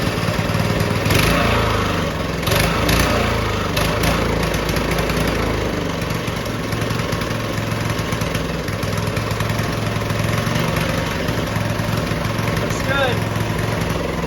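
A small Coyote Bullet go-kart engine runs loud and close throughout, with a rough, steady drone that wavers a little in pitch.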